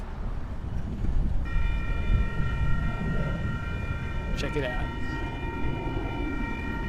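A passenger train pulls into a downtown station with a crossing nearby: low rumbling rolling noise, then a steady multi-tone horn or bell chord joins partway through, with brief squeals. A person speaks briefly over it.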